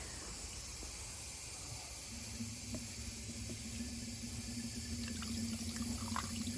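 Coolant is poured into the coolant reservoir of a Mercedes W124 car, making a faint, steady liquid trickle and hiss that continues throughout, with a low hum joining partway through.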